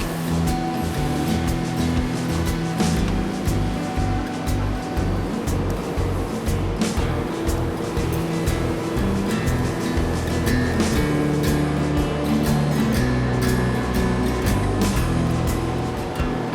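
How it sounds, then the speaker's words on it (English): A laser cutter slices stainless steel parts for a dado jig's stop edge marker, producing a loud, continuous machine drone with steady low rumble and faint rhythmic ticking throughout, with no talking. "Back at the laser cutter, we're cutting out the Dado stop edge marker."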